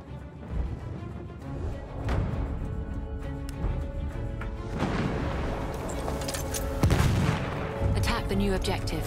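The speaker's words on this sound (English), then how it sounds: "Wait for the enemy artillery barrage to stop firing." An enemy artillery barrage in a Battlefield 1 Rush match: repeated heavy booms and blasts, some distant and some closer, with a strong impact near the end, over a continuous battlefield rumble and occasional voices.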